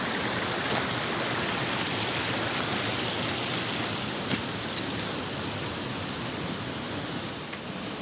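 Cascades along the Bistrica stream in Preddvor keep up a constant hiss of rushing water, moderately loud and even, with a few faint splashes or drips on top and no talking.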